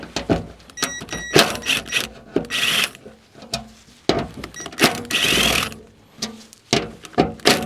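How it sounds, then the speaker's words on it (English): A hand ratchet clicks in quick bursts while undoing the bolts of a fuel tank collar on a UAZ, with close, repeated metallic pawl ratcheting interrupted by short pauses and scraping. "I'm just going to unbolt this whole collar right here."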